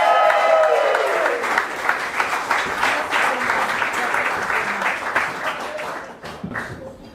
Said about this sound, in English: can we get a massive round of applause for our last slam winner